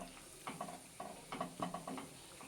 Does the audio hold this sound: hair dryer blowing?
no